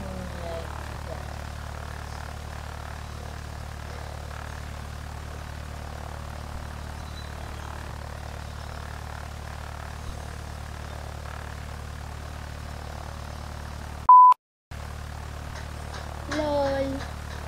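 Steady propeller engine drone of an airplane heard from inside the cabin, continuous and even for most of the clip before a brief dropout near the end.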